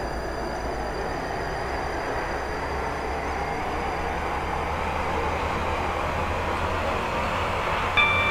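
A steady low rumble of a Class 458/5 passenger train in a video game running along the track, fairly even and continuous, with a faint high whine and a small clunk near the end.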